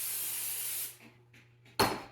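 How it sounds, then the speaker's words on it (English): A continuous hiss of aerosol cooking spray on plastic wrap for about a second, then a short pause with faint rustling, followed by another sharp burst of spray. "Just hold it to the side here and spray"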